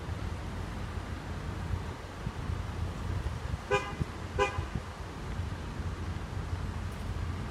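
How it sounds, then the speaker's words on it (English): Two short car horn toots at a railway level crossing in Farnham, heard at a moderate distance over steady traffic and wind rumble. "You can't really honk a level crossing"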